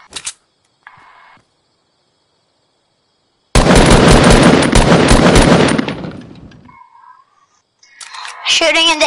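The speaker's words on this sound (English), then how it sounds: "Shooting in the air, so maybe someone will see." Gunfire shot into the air in a PS4 video game: a loud, dense burst of rapid shots lasting about two seconds, then a pause before other brief game sounds.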